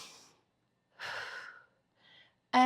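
Breathing during a stick mobility movement exercise comes through as a few soft, airy breaths separated by silence, close and quiet, with a sharper burst at the very end.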